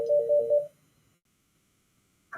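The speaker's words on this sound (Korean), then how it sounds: "자꾸 전화가 와서 죄송합니다." A phone rings with an incoming call during a school lecture on project classes: a short, faint electronic trill of pulsing tones, then quiet.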